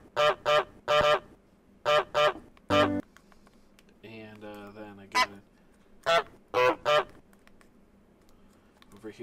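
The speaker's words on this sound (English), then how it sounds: "we're just gonna put some goose honks in here." Goose honks from Untitled Goose Game, sampled on a PO-33 pocket synth: short, nasal honks fall in rhythmic bursts of two and three, with a longer buzzy tone in the middle and quiet gaps between phrases.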